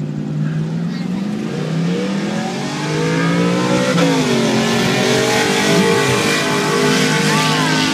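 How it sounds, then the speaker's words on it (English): A supercharged Toyota Tundra TRD pickup on stock tires in four-wheel drive races at full throttle, its engine a loud close roar that climbs through the gears with a shift partway, while crowd and voices sit faintly underneath. "got Fire Life racing a TRD supercharged Tundra, stock tires, four-wheel drive"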